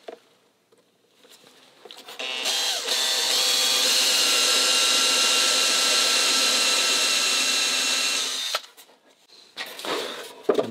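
A power drill spins steadily for several seconds while countersinking a hole in a wooden bulkhead for a 2.4mR sailboat, close and loud, with brief handling noises before and after.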